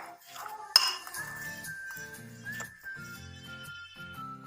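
Spiced potato filling with chopped onion and chillies stirred in a bowl, with repeated light clinks and scrapes of a utensil against the dish, plus a brief sharper clink early on, over a quiet kitchen background.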